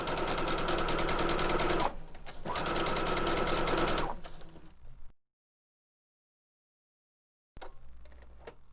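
A sewing machine stitching a skirt side seam runs in two steady bursts of rapid mechanical ticking, then a slower stretch and a pause of silence before it starts again.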